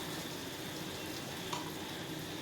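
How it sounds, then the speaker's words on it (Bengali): A ginger, garlic and green chili masala paste fries with browned onions in a pan, giving off a soft, even sizzle close by, with one faint clink partway through. "এবার মশলাটা কিন্তু সুন্দর করে আমি কষে নেব যেন মশলার থেকে কাঁচা ভাবটা চলে যায়"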